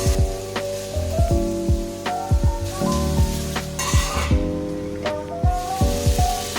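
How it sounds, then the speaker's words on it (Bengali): Vegetables and chopped onions sizzle in a hot pan for a chilli paneer dish, steady frying hiss broken by repeated scraping stirs of a spatula, close and loud with no talk. "নেড়ে ওর মধ্যে আগে থেকে কুচানো করা পেঁয়াজগুলো দিয়ে দেবো। পেঁয়াজগুলো দিয়ে নাড়িয়ে নেবো ভালোভাবে।"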